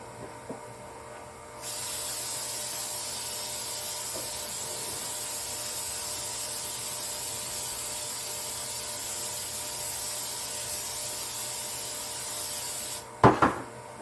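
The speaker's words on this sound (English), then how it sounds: "I'm going to spray my pan over my sink because I don't want a big mess." Cooking spray hisses steadily into a pan held over a sink, running continuously for about eleven seconds, close and fairly loud, ending with a short clatter.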